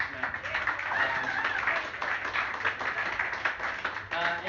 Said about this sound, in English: Give yourselves a round of applause for hanging out with us tonight.